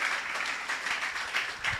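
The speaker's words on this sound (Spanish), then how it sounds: "Si el Señor habló a tu corazón, ríndele una fuerte ofrenda de aplauso." A church congregation applauding, a moderate, fairly even patter of many hands clapping at a distance, with faint pulses in the roar.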